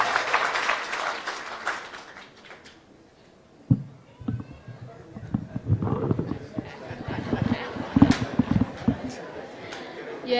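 A crowd at a political rally in Kirinyaga, Kenya, breaks into scattered clapping and cheering for a women's representative, coming in abruptly after someone speaks over a PA and continuing in uneven bursts with chatter.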